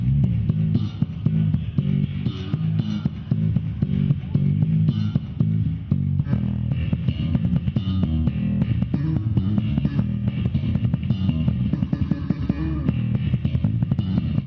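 Bass guitar, the most expensive one ever made, playing a busy groove through low-quality audio, a steady thumping and muffled tone that runs throughout with no talk.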